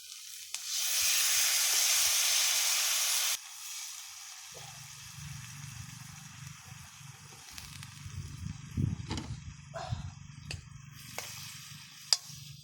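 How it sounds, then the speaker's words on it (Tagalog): A broad steady hiss from coconut milk hitting a hot pan, then softer bubbling and low simmering with occasional clinks of a utensil. "So, ayan guys, kumukulo na po yung ating gata."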